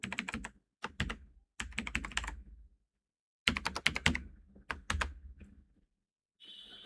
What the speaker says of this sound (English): when I type my original password,